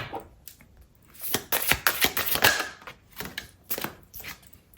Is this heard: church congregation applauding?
no